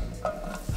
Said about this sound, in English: We're gonna get a frying pan and fry these mushrooms.